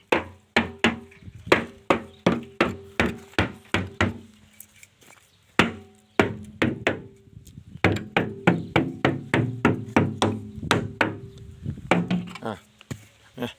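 The lid of a 200-litre steel drum charcoal kiln struck repeatedly, producing loud, resonant metallic knocks in a steady rhythm, with a brief pause and then a faster, busier run of hits.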